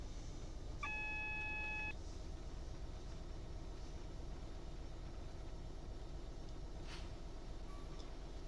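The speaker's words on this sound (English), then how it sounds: "So you heard that buzz, you see that red." Warning buzzer in a train cab in a UK train simulator game on a West Coast Main Line freight run, a steady tonal beep lasting about a second early on, over continuous low rumble of the locomotive.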